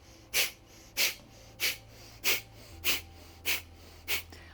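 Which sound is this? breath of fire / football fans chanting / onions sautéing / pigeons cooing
breath of fire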